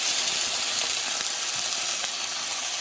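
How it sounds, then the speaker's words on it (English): Okra and black-eyed peas sauté in a pan with a steady, close, bright sizzle and hiss that holds level throughout, with faint stirring crackles and no talk. "So let me saute this"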